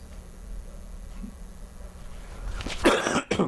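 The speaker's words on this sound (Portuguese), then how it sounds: "Desculpa, pigarro, é a idade." A man clears his throat once, a short rough burst near the end after a quiet stretch of room tone, close to the microphone.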